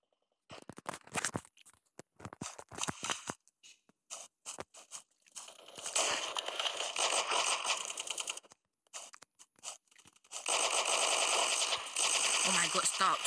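Video game gunfire in CNR gameplay, rapid automatic bursts in separate volleys, clicks and short shots early on, then long sustained loud fire near the end, with brief speech in between.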